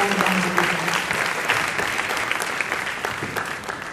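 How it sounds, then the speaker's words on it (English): A room gives the volunteers a round of applause, dense, loud and continuous for a few seconds, with no talking over it. "I just want to have all of us give them a round of applause for all their efforts"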